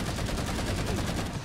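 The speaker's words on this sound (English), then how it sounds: "I like the assault rifle though. It sounds a lot chunkier." Rapid automatic gunfire from an assault rifle in a Halo game, a dense, continuous burst of chunky shots held at steady loudness for the whole stretch.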